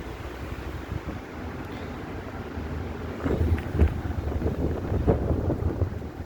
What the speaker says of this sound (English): too much wind for me today